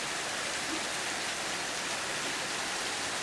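Heavy typhoon rain pours down in Malabon as a dense, steady broadband hiss of water with no break, loud and continuous.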